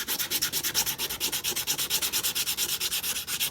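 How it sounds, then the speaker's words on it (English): Hand sanding a Stubby in quick, even back-and-forth strokes, a close rhythmic scratching of about eight strokes per second with no voices. "what we're gonna do is we're just gonna sand"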